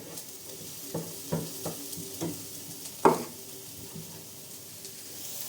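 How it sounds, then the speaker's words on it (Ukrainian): Chopped onion frying in a pan on the stove, a soft steady sizzle broken by several light scrapes and knocks of a spoon stirring, close and quiet with no talk. "Ось так прожарилася моя цибулька."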